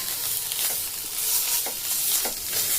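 Fried onion and poppy seed are stirred in a kadai, a continuous soft sizzle broken by several scraping strokes of a spoon against the pan, close up and with no talking.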